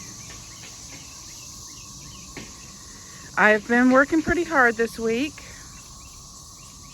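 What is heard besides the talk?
cicada calling in the garden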